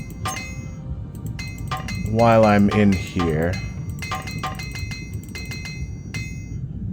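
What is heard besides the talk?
repairing armor with armor hammers in video game Morrowind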